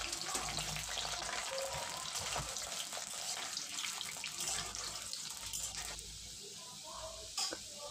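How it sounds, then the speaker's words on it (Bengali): Diced potatoes fry in plenty of mustard oil in a wok, making a continuous bubbling sizzle with occasional stirring clatters, while a voice talks faintly underneath. "এবারে ডুমো ডুমো করে কেটে রাখা আলুটা আমি ভেজে নেব।"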